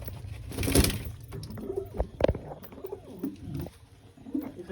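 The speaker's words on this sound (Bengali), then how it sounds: "দেখো একটা কালো দানা পায়রা নিয়ে এসেছি।" Pigeons coo softly and repeatedly, close by in a pigeon loft, with light fluttering and patter around them.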